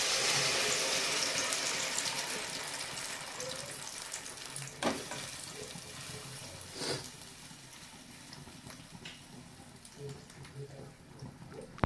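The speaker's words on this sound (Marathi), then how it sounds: "आता जे चटणीसाठी जे खोबरं शेंगदाणा लसूण मिरचीचं वाटण केलं होतं ते वाटण मी याच्यामध्ये टाकते" A ground paste of coconut, peanut, garlic and chili is added to a hot pan for chutney and sizzles and crackles softly, with a few sharp stirring clinks; the frying fades gradually and is fairly quiet.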